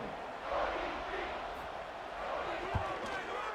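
A college football stadium crowd, NC State at East Carolina, roars in a steady broad wash after an extra point, with one sharp thump partway through and no clear talk.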